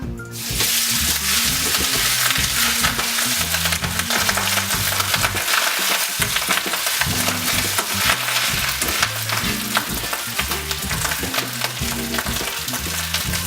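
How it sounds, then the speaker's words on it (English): Rice pilaf frying in hot oil in a pan gives a loud, steady sizzle and crackle that runs unbroken throughout, with no voices over it. "We're gonna put the rice pilaf in just to cover the bottom of the pan."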